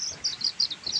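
Young chicks peep in bright, high chirps, a handful of short calls repeating in quick succession close by with little else around them.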